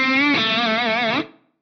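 An Eventide H9 distortion effect, with bass cut before the distortion, boosted after it and a crossover setting, plays a sustained, buzzy, wavering distorted tone for just over a second before cutting off abruptly.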